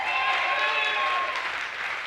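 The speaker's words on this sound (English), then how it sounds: "Give him a big round of applause." A concert audience applauds a sound engineer at a lap steel music show: dense, steady clapping from a large crowd that holds throughout and eases slightly toward the end.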